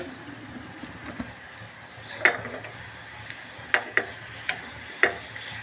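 Fennel seeds and broken red chilli pieces temper in hot ghee: a faint, steady hiss broken by a handful of sharp, scattered pops and clinks, close up.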